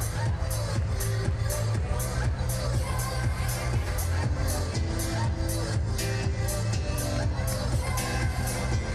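Applause from an audience honoring women at a Santo Domingo television event, a continuous, even roar of many hands clapping with crowd noise underneath, sustained at steady volume.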